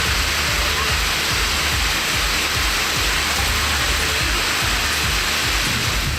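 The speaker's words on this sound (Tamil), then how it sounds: "வெளுத்து வாங்கிய மழையால் சாலைகளில் மழைநீர் பெருக்கெடுத்த காட்சிதான் இது." Heavy rain pours down steadily in Kulithalai, Karur district, Tamil Nadu, with rainwater flooding the roads. It makes a loud, unbroken wash of hiss and rumble from start to finish.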